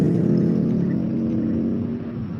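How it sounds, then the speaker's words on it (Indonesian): Steady engine drone on a road, close and continuous with a slight waver, alone with no voices over it. "Kowe iki nang dalan ono suara motor iki."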